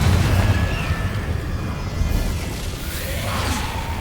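A Confringo fire spell bursts in Hogwarts Legacy, a loud rumbling blast with a low booming roar and swishing whoosh that lingers for several seconds.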